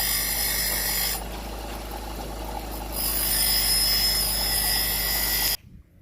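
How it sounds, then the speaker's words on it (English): A power grinding tool bores a hole into a small part for a homemade sandblaster, giving a steady, close, harsh whine with a brief dip in intensity before it cuts off abruptly near the end. "He's grinding it down a little bit for us, trying to make that hole"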